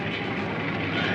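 A cartoon airplane roars through takeoff, a dense, continuous engine drone that stays loud and steady throughout the brief moment with no talk over it.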